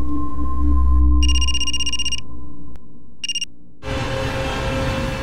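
An electronic mobile phone ringtone plays in two warbling bursts over a low hum, the second one short and cut off before a noisy room tone takes over.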